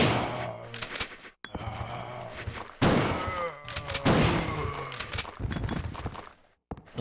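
Shotgun blasts aimed at zombies in Resident Evil on PlayStation, several loud bursts spread across the stretch amid game music and dense action noise, with short silent breaks between bursts.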